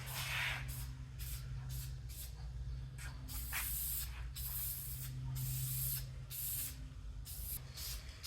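Repeated bursts of aerosol spray paint hissing as a coat goes onto a GMC 305 V6 engine, each spray lasting about a second with short gaps, fairly close and moderate in level.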